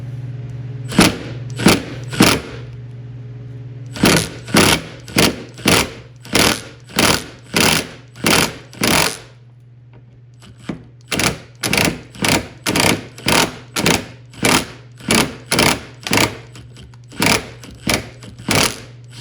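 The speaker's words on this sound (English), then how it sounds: "I have mine on an impact gun, so that way I can get a little bit of impact action on it." An impact gun with a 13mm socket works at a rear wiper nut on a Mercury Mariner. It fires a series of loud, close, rhythmic hammering bursts in two runs, split by a brief pause, over a steady low hum.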